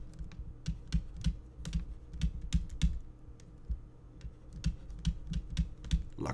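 Brisk typing on a computer keyboard, a steady run of close, quiet key clicks in uneven bursts with no voices.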